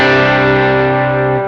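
A Tech 21 Richie Kotzen RK5 v2 Fly Rig pedal gives a sustained, loud distorted guitar chord that rings steadily and fades slightly at the end.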